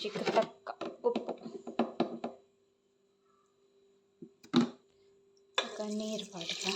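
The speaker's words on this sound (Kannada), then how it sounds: "ನೀರು ಪಾಡ್ದ ರಡ್ಡು ಲೋಟೆ ಪಾಡು" Water splashes and pours into a cooking pot in a home kitchen in irregular bursts, close and fairly loud, followed by a quiet gap, a brief clatter and then a longer continuous pour.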